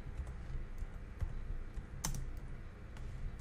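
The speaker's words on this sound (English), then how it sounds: "Okay, so I'm going to type in that." Close, quiet computer-keyboard typing of a short search term, a run of light, irregular key clicks with one sharper tap near the middle, alone without talk.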